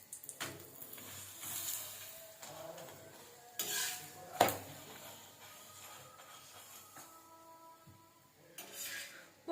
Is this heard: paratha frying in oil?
yes